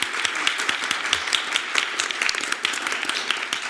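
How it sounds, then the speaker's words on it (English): Audience applause for the panelists at a women of color leadership panel, a steady wash of clapping lasting several seconds at moderate loudness with no voices over it. "I just want to give them a real strong applause because they were amazing"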